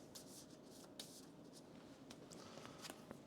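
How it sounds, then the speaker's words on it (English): Cards being shuffled over and over at a tabletop game of Earthborne Rangers, a steady close, quiet riffling and rubbing with soft slaps, no talking. "This is a bit much shuffling."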